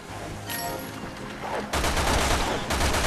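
Sherry Birkin's pistol firing in the Resident Evil 6 Mercenaries game, a loud burst of rapid shots that starts partway in and runs densely to the end, over a game soundtrack.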